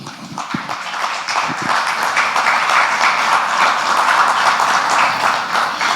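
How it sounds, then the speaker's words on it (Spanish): Church congregation applauding for God in a worship service, a steady broad wash of clapping sustained throughout, fairly loud with no talk over it. "Vamos a darle un aplauso al Señor."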